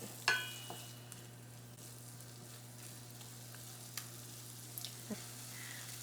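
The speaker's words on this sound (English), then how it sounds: "Now we're just gonna stir fry this kimchi for a bit." Kimchi sizzles steadily in a pan as it is stir-fried, a soft, constant frying hiss with a few faint clicks and taps of the spatula, close by but quiet, with no talking.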